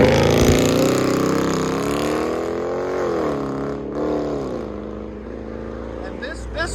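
A Dodge Charger R/T with a 5.7L HEMI V8 and straight-piped exhaust with 5-inch tips, loud deep burbling exhaust rising and falling through revs, close by, with talk over it.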